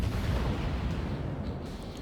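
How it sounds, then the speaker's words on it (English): Warship guns firing in World of Warships, a steady rumbling low boom that fills the whole stretch without distinct separate shots, loud and continuous with no talk. "takes a shot at that spotted destroyer right as he disappears"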